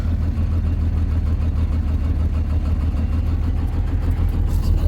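A lowrider car engine idles steadily at close range while warming up, a low continuous rumble with a faint rhythmic chug and no talking.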